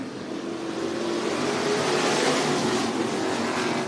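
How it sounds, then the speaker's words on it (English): Street stock race cars roaring around the dirt oval at Cottage Grove Speedway in Oregon during a heat race, a dense, loud, continuous engine roar from the pack with no talk over it. "we are currently racing Street Stocks Heat Race number 2"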